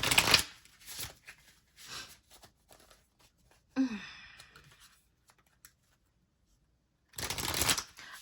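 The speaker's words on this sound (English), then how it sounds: "I'm gonna shuffle these off camera because they are rather large." Bursts of shuffling of large oversized cards, riffles and soft slides, come close to the microphone with quiet gaps between them and a brief sigh partway through.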